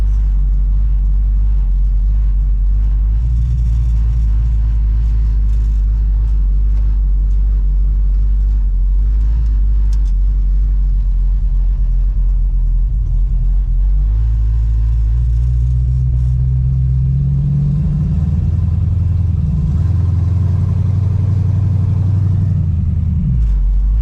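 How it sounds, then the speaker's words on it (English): A deep, loud engine rumble from inside a moving 1955 car not driven since 2012, steady and rattly, shifting pitch slightly as it drives on, with no talking. "Cam just rattles the crap out of his car"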